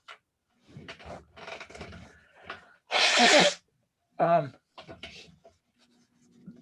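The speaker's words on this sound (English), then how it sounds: "Oh, I gotta sneeze." A single loud sneeze bursts out after some soft talking, followed by a sharp sniff and a few more quiet words.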